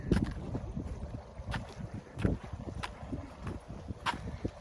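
Wind gusts across a microphone beside the full Khlong Pho reservoir in Nakhon Sawan province, Thailand, giving a steady rushing roar with soft buffeting thumps and no voices.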